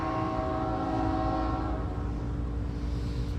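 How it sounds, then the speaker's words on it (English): A train passes steadily and fairly loud throughout, a rumbling mass of low rail noise under sustained horn-like tones, with no talk over it. "Here comes the train."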